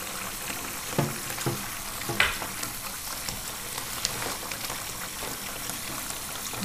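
A sticky photopolymer stamp plate from a Teresa Collins Stampmaker kit is rinsed under running water, making a steady hiss with small splashes and occasional soft knocks.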